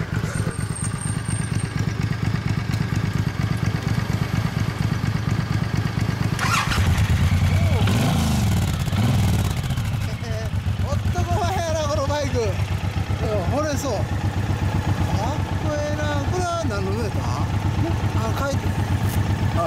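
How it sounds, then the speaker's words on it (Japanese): A 2015 limited-edition Suzuki M109 cruiser motorcycle idles nearby with a steady, throbbing low rumble, while people chat over it in the second half. "そのエンジンを聞かせてもらえますか？"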